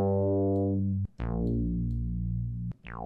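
Arturia JP-8000 synthesizer notes with the filter swept by an envelope, sustained buzzy tones that brighten at each attack and then darken, played alone in a few separate held notes.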